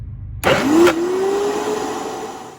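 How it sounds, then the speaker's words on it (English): An electric blender whirs to life while blending a thick paste of miso, bonito flakes and tomato paste. The motor kicks in sharply, then settles into a loud, steady whine and hum close by, with no talking. "I'm going to turn this blender on"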